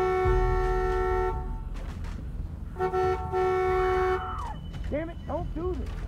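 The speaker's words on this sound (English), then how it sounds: "Set off the alarm?" A car alarm blares in The Walking Dead Season 2 video game, sustained honking tones cutting out and restarting before a warbling siren-like sweep, with someone talking over parts of it.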